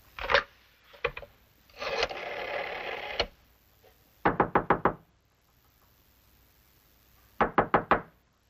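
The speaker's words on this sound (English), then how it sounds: "I knocked, but..." Knocking on an office door: several separate bursts of rapid knocks, three to four raps each, fairly close and crisp, with a louder scraping or rubbing stretch between them and no talking.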